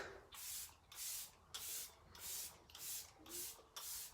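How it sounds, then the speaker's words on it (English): Seven quick bursts of a fine mist of makeup setting spray, evenly spaced about half a second apart, close and crisp with brief pauses between. "I'm going to go in with a little bit of Let It Set Refreshing Spray"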